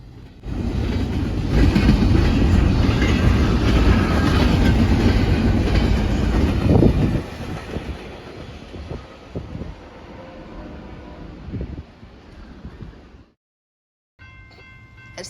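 A loud Norfolk Southern freight train roars past close by at speed on the Chicago Line, rumbling and clattering steadily, then the noise thins to rattling cars before fading out.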